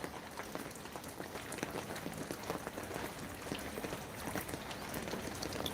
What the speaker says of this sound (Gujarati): વરસાદ આવ્યો